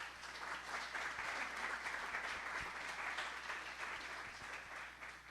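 Audience applause at a talk after a daughter sings at Mass, a full room clapping steadily and fairly distant for several seconds, fading slightly at the end.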